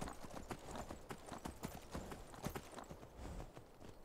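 Horse hooves in Skyrim clip-clop in a steady, quick rhythm at moderate distance, fairly faint and with no talking over them.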